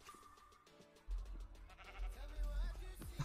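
A Minecraft sheep bleats in the Nether, a short wavering call heard fairly close after a quieter opening, over a rumbling low game ambience.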